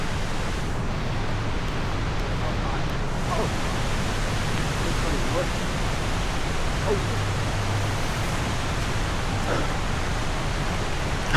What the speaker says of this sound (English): there's a little low flow falls falling off the canyon over there